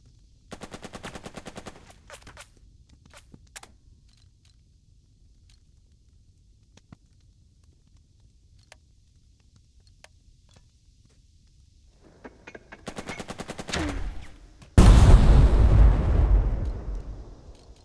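Gunfire in the WW2 tactical game Burden of Command: a short machine-gun burst, scattered single shots, then another rapid burst followed by a loud, booming explosion or artillery blast that rumbles and fades.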